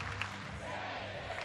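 Crowd at an Estonian beach soccer match cheering for the home team, a steady wash of voices and shouts with brief louder bursts, heard under a commentator talking.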